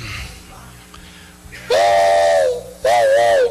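A voice imitates a steam train whistle in two sustained, wavering hoots, the second shorter, loud and close after a quiet start.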